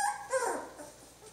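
Three-week-old Swedish Elkhound (Jamthund) puppies in a pen give short, high whimpers and yips, two close whines in about a second with a fainter trailing cry.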